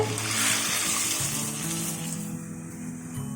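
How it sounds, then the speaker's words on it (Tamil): A pot of water with pasta bubbles at a low boil, giving a soft, steady hiss heard close up. "இப்போ தண்ணி லைட்டாக கொதி வருது. இதில் நம்ம பாஸ்தாவை போட்டுக்கலாம்"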